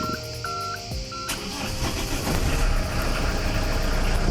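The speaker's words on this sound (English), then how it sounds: "Starting starboard engine." A boat's starboard engine cranks and catches, then settles into a steady, rumbling idle that grows slightly louder and fuller over the final seconds.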